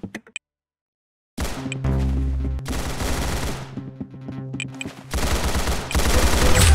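Roblox Arsenal gunfire: rapid automatic bursts and single shots, loud and close, separated by short silent gaps.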